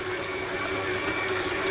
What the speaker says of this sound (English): Just let the mixer do its work